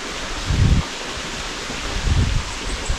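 Steady wind blows across the microphone, with two heavier gusts buffeting in low and loud, no voices present.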